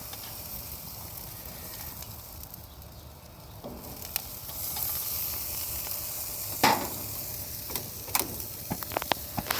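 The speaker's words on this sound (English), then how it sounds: "let's fire up this sear" Meat searing in a hot pan, a continuous close sizzle and hiss with occasional sharper crackles and pops standing out, no talking.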